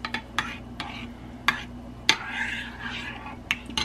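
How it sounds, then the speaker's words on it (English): Ingredients are stirred together in a bowl, a spoon knocking and scraping the sides in repeated sharp clinks with soft swishing between them, close and clear. "then you stir it all together"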